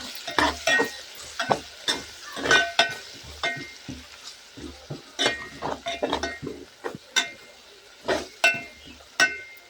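Spoon stirring dried fish curry with turmeric and salt in a hot pan, with repeated scraping strokes and a soft sizzle, close and alone without talk.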